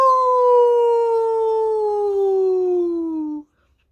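A storyteller's voice imitates a wolf howl, one long sustained loud tone gliding slowly downward for over three seconds, then cutting off to silence.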